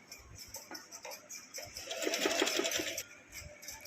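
A domestic sewing machine stitches a kurti with a frock-style cut, running a steady mechanical whir that builds to a faster, louder burst of rapid needle strokes midway, then eases off; no talking.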